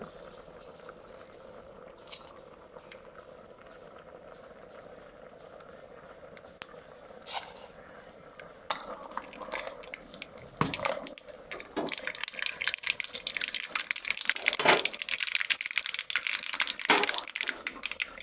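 Mustard seeds in hot coconut oil, starting as a faint hiss and building to dense, rapid popping and spluttering that grows louder and busier over the second half.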